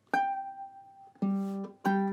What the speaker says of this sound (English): if you've got a high G, which you probably have on a soprano uke